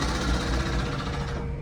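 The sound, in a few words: big heavy duty jackhammer at a construction site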